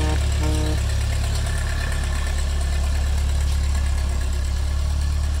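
A 1952 Ford 8N farm tractor engine idles close by, a steady low, even chug that holds through the whole stretch without a break and with no voices.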